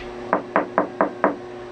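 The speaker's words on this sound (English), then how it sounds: "I should have knocked on it beforehand, because it's pretty darn thin. It's pretty high pitched sound there" Five evenly spaced knocks on a thin wood panel aboard a sailboat, sharp and fairly high-pitched, close and loud against a quiet background.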